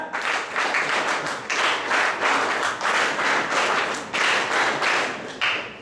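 Audience clapping at a closing ceremony for a de-addiction camp, a steady broadband patter of many hands lasting the whole stretch with slight swells, fairly close and loud, with no speech over it.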